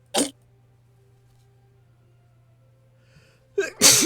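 A person sneezes sharply twice, a quick burst near the start and a louder, fuller sneeze at the end, with near silence and faint hum between.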